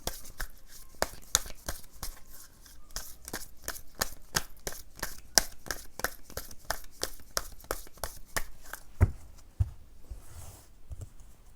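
Tarot cards shuffled by hand in close, rapid bursts of crisp slapping riffles, followed by a few separate cards being drawn and laid down.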